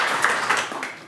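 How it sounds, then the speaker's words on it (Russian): Audience applause in a studio, a brief burst of many hands clapping together, fairly close and steady before tapering off. "Аплодисменты вам."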